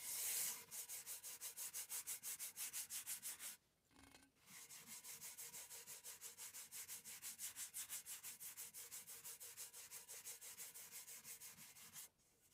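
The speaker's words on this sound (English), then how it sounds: "you're only actually sanding the finish on top" Steady rhythmic back-and-forth hand sanding strokes on the finish of a wooden box, close and fairly loud, with one brief pause before the scratching resumes.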